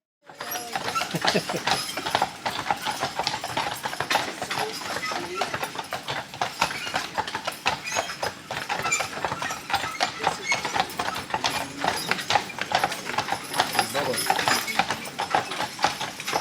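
Steady clip-clop of a horse's hooves on pavement with a rolling, rattling carriage underneath during a carriage tour on Mackinac Island, joined by people talking throughout.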